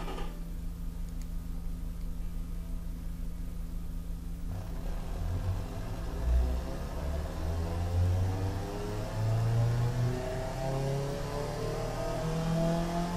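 A simulated Honda Integra Type R engine with a long turbo exhaust and straight-through mufflers starts up in the Automation car game, then idles and revs steadily, rising and falling in pitch, with no talk.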